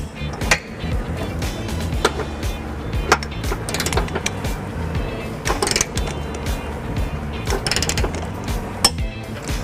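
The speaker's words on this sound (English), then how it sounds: "When you reach the proper torque, you're going to hear that nice little click." Rapid mechanical ratcheting clicks from a torque wrench come in repeated bursts, close by, with scattered sharper clicks over a steady low rumble, while installing a trailer hitch on a 2005 Dodge Neon.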